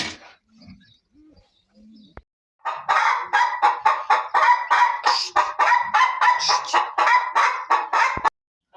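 Loud, repeated squawking and honking from poultry, a rapid run of harsh calls lasting several seconds after a few quiet clucks.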